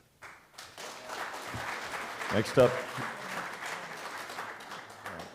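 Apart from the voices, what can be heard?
applause at a legislative meeting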